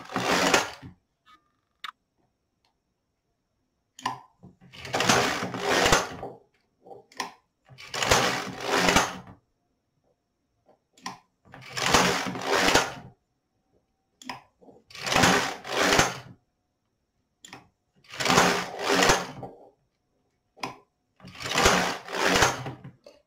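LK 150 knitting machine carriage sliding across the needle bed to knit e-wrap cast-on rows, seven evenly spaced rasping passes of a second or so each, separated by quiet gaps and small clicks.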